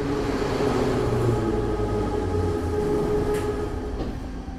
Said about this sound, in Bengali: মেট্রো দমদম স্টেশনে ঢুকছে সবে